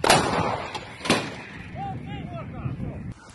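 Rapira 100mm anti-tank gun firing in a combat shelling position, two loud sharp reports close together near the start with rumbling decay, followed by shouted voices over lingering noise.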